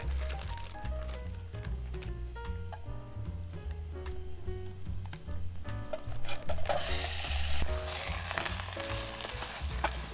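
Chicken, scallions, garlic, Cajun seasoning and green peppers are stirred in a pan on a camping trip, a soft sizzle and scraping heard under loud background music.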